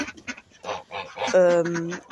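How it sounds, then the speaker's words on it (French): Black hens cluck in a farmyard flock, with short clucks and a drawn-out tonal cackle near the end, close and fairly loud, with voices mixed in. "j'ai 14 poules noires"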